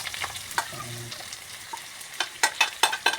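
Food browning in a pan as it fries and is stirred, soft sizzle with scattered scraping clicks that grow louder and more frequent toward the end, no voices.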